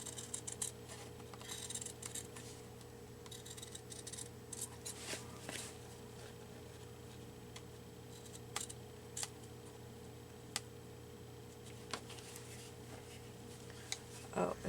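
Scissors snip through paper for a junk-journal collage, producing faint, irregular crisp clicks and cuts spread across a quiet room with a steady low hum underneath.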